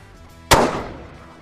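A single sharp rifle shot from a 6 Creedmoor, fired standing from a positional stance at a very small steel plate 708 yards away, ringing out loud and close and then decaying over a brief echoing tail, with no talking.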